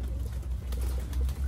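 A male black tiger tippler pigeon gives a low, soft coo, brief and close, over a faint background.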